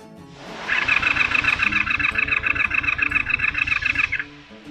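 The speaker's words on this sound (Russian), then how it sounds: "Ну, пуск мотоцикла после установки нового аккумулятора." A Honda VF500 Magna V30 motorcycle with a freshly fitted battery cranks on its starter, a loud, steady whirring churn of about three and a half seconds that stops without the engine catching, with no talk.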